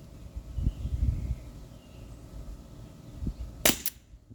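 An H&K VP9 T4E .43 Umarex air pistol fires a single sharp, close crack near the end, after a stretch of quiet low rumble.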